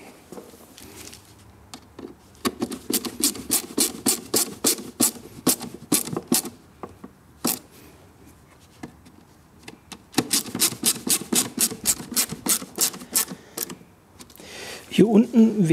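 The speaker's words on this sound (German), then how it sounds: "Und jetzt festschrauben." Screws are tightened on the air filter housing of an Audi S6 V10 (4F C6) in repeated bursts of quick ratcheting clicks, close and fairly loud, separated by short pauses.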